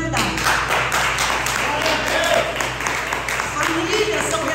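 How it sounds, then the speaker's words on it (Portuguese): Congregation applauding in a church service, a steady sustained clapping mixed with crowd sound and some speech, loud and close throughout. "Aplausos para essa verdade"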